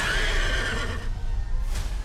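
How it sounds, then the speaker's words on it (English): A horse neighs loudly in the Nope movie trailer, a single close whinny that falls in pitch over about a second, followed by a short fainter whinny. "The horses"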